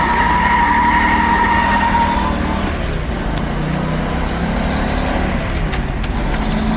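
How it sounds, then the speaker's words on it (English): A 1964½ Ford Mustang coupe with a 289 V8 four-barrel and a four-speed manual is driven hard. Its engine holds a steady, loud, close drone, with an upward sweep toward the end. "Car runs really good."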